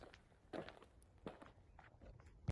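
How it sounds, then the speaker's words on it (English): Footsteps on an empty road with no traffic, a soft, irregular series of quiet steps close by against a faint background hiss. "Just the sound of footsteps having the road to themselves."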